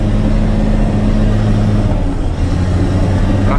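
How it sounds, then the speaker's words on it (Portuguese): A Caterpillar 120K motor grader engine pulls in third gear, a loud steady low diesel drone close by, with a slight dip partway through as the throttle eases. "Aí, ó, tirar o pé do acelerador. Aí a máquina traciona mais."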